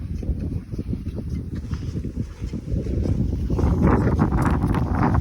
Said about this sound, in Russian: Ветер дует просто отлично.